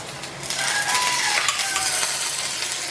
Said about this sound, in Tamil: வீட்டில் எடுத்த வெண்ணெய் மேலே கொஞ்சோண்டு போடுறேன்